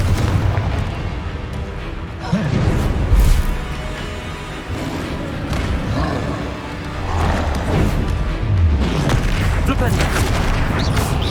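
Spell blasts and magical impacts from the video game Hogwarts Legacy boom and crackle in a dense, continuous barrage of combat sound, with a voice shouting spell names throughout.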